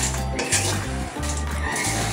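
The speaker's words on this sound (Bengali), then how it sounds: "এখন আমি চুলার আঁচ মিডিয়াম লোতে রেখে অনবরত বাদামগুলোকে নাড়তে থাকবো।" Peanuts roasting in hot salt are stirred steadily in a pan over medium-low heat, giving a continuous gritty scraping and rattling with a faint sizzle, close and fairly loud throughout.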